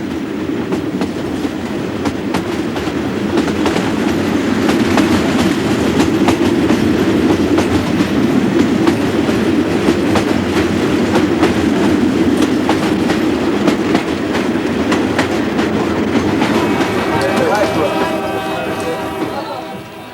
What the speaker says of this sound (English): The train is always full because it's the only way of crossing the country.